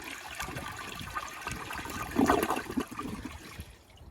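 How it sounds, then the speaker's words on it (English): A 1981 Eljer Emblem toilet with a siphon jet flushes on its flushometer, a quiet watery hiss swelling into a strong gush midway, then tapering into trickling refill. "now that honestly has a powerful flush"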